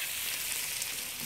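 Lamb sizzles briefly and evenly in a pan for a Samoan-style stir-fry, a close continuous hiss with a faint tap at the very end.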